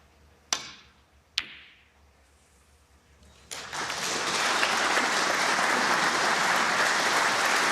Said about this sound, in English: Wonderful shot. Greatly appreciated by the crowd.